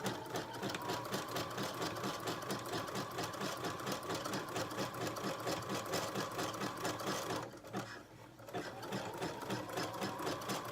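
A sewing machine attaches swim elastic around the arm curve of a swimsuit, giving a steady, rapid mechanical whir that continues almost unbroken, with only a short pause near the end before it starts again.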